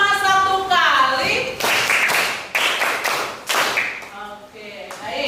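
A teacher leads a class of primary school children in Indonesia through a call-and-response clapping routine, with the voices chanting counts between bursts of sharp, loud clapping from the whole group.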